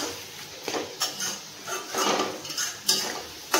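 Soft leafy greens are stirred in a pan, with intermittent scrapes and light metallic clinks of a utensil against the pan at an uneven pace, close by and with no speech.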